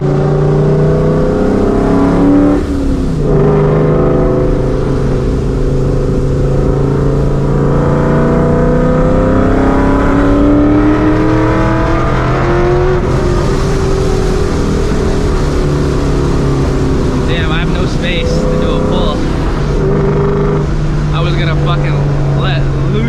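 A supercharged New Edge Mustang GT pulls hard on a Houston highway, its engine a loud, sustained roar with rising pitch through the gears, close and dominant throughout, with a voice briefly audible.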